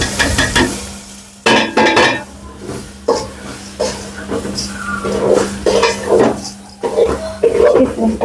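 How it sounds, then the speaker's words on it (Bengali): Meat curry cooking in a pan for an Eid meal, with repeated scraping stirs and a steady sizzle, plus occasional metallic clinks of utensil against pot, fairly close. "এই মাংস রান্না হয়ে গেছে, অন্য তরকারি রান্না করতে হবে।"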